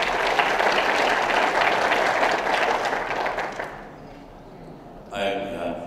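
An audience at a summit closing plenary applauds distinguished guests with dense, sustained clapping that thins and fades, ending with a brief burst of noise.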